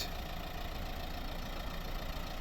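A 1.5 dCi diesel engine in a 2012 Renault Grand Scenic III idles steadily nearby, a constant low rumble with a faint knocking texture and no other sounds.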